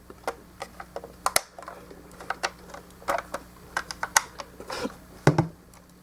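Plastic stands on a Star Wars Transformers Darth Vader Death Star toy fold up with a run of sharp, close clicks and snaps at an uneven pace.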